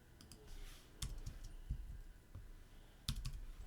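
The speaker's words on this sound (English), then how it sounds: "I can't really type apparently." Typing on a computer keyboard at close range: irregular bursts of key clicks with a few louder strikes, no voices.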